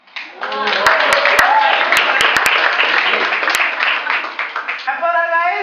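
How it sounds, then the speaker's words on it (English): At a school award ceremony, an audience claps for a student winner, the close, busy applause mixed with voices and a few sharp clicks, thinning toward the end as talk takes over. "Clap for her, guys."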